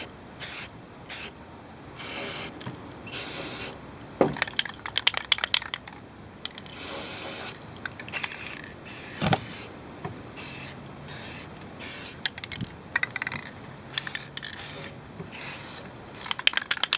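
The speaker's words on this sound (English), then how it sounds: "So I'm just going to put the box in here and spray like that." Aerosol can spray painting a car exhaust inside a box, repeated short hissing bursts of about a second each, close and fairly loud, separated by brief pauses and a few light clicks and rattles.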